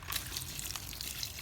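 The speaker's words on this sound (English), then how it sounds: "I'm going to try with one hand to give the peanuts some water without exposing them" Water trickles steadily from a hand-held source onto the soil of peanut plants growing in a grow bag, a soft, continuous pour with no voices.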